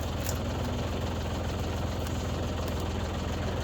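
A tractor engine runs steadily while powering a County Line 3-point wood splitter outdoors, a loud, dense, low rumbling drone that stays constant throughout, with no talking.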